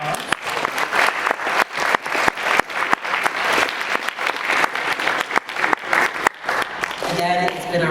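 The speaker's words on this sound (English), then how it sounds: "Let's give one final round of applause." Audience applause fills a graduation-season awards ceremony for the class of 2019, a steady, dense wash of clapping from a large crowd that carries on loud and even for several seconds before tapering near the end.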